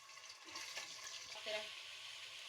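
Chicken frying in hot oil in a karahi for a Lahori white chicken dish, a steady, quiet sizzle with faint stirring and scraping, no voice over it.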